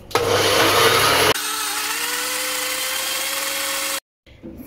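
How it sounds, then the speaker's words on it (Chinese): A blender whirs as it mixes beaten eggs and 30 grams of oats into pancake batter, a loud steady motor drone that drops to a lower, smoother hum before stopping, followed by faint sounds. "咁就用搅拌机搅匀头先嘅材料啦。"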